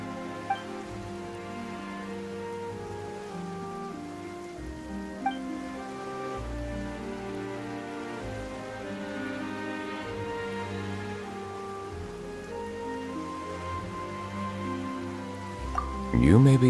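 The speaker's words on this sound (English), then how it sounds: "Why is it raining all of a sudden?" Steady rain falls across a scene in the video game Genshin Impact, a continuous patter that runs beneath layered music throughout.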